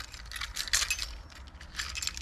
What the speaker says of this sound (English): Mazda keys.